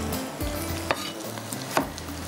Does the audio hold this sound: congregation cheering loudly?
no